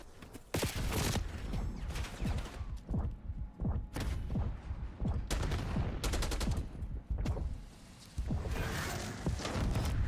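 Bursts of AK assault rifle fire in Black Ops 6 multiplayer, loud rapid volleys broken by short pauses, with explosions and game noise around them.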